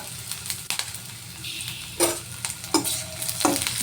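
Garlic, ginger and green chili frying in a small amount of oil in a pan, a steady close sizzle broken by a few sharper bursts as a spoon stirs and scrapes through the pieces.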